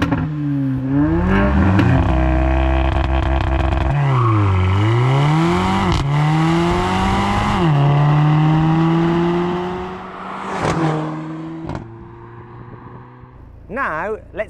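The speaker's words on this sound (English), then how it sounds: "Now let's compare how these cars sound, starting with the old A45." Old Mercedes-AMG A45 with a 2-litre turbocharged four-cylinder engine revving repeatedly, rising and falling blips with crackles on lift-off, loud and close, then settling to idle.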